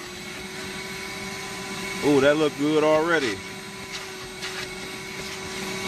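A vacuum cleaner drones steadily throughout while a car's interior carpet is cleaned, a close, even whine with a brief spoken remark layered over it partway through.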